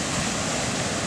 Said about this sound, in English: Oh, this water's moving now.